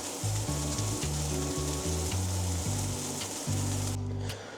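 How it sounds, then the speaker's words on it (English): Burger buns toasting in a frying pan alongside an egg give a steady close sizzle and fry under a low, humming background, with no talk. "just toasting our buns a bit in the fry pan with that egg"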